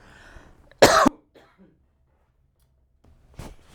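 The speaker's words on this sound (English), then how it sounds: "I have to cough." A single sharp cough bursts out loudly, followed by a quiet pause and a fainter cough near the end; a little soft talk precedes it.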